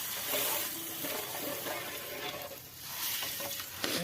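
Hot spiced tempering poured into yogurt for Punjabi dahi tikhari, giving a steady close sizzle with stirring and liquid movement, continuous for a few seconds with no talk.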